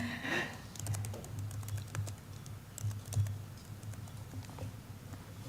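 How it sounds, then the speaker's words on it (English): Computer keyboard keys are typed in steady, fairly quick bursts of soft clicks at a conference, close and moderately quiet with faint room ambience. "this is so she can type in a hello world or hello world"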